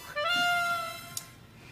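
A single drawn-out cat meow, clear and close, tapering off toward the end.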